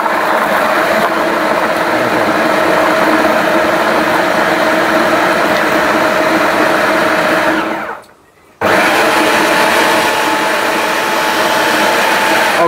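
Miyako food processor blending a paste, a loud, steady motor whir up close that cuts out abruptly for half a second before restarting at full power.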